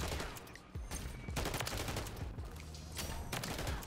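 Rapid automatic gunfire from hip-fired weapons in Modern Warfare III gameplay, several close, loud bursts of shots with short gaps between them.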